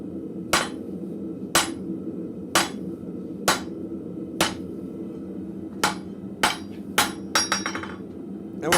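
A blacksmith's hammer strikes metal against the shoulder of an anvil in sharp, ringing blows, roughly one per second, speeding into a quick run of lighter taps toward the end.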